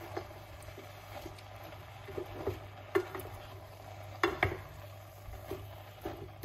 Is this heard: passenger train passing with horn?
no